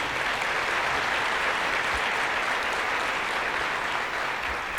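A church congregation applauds at a morning service, producing a thick, continuous roar of clapping at a constant level from start to finish, with no speech over it.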